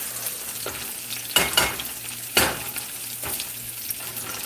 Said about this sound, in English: Saute this while the squirrels are boiling.